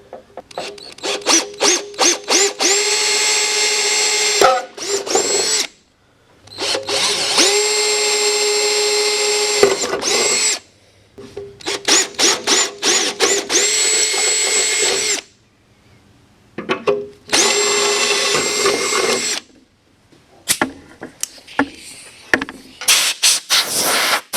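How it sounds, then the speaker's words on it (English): Loud bursts of a power drill whirring up to speed, drilling belly pan holes on a 2005 Ski-Doo Summit snowmobile, repeated several times with short pauses between, close by and dominating. "Let's drill out these belly pan holes again and get those mounted in."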